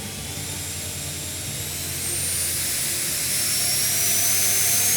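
A JisuLife Ultra2 portable fan roars at full power, a steady broad whoosh with a high whine, growing slightly louder partway through and continuing without voices.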